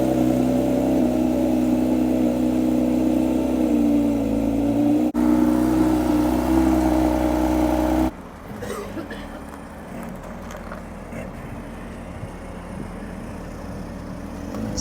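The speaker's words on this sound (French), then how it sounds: "La petite sortie de la GT3" Porsche 992 GT3 RS driving out, its engine a steady loud drone that cuts off abruptly partway through, leaving quieter low rumble and background noise.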